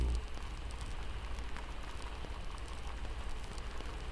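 Soft, steady patter of rain falling on a woodland cabin, quiet and continuous, with a low background rumble and no talking.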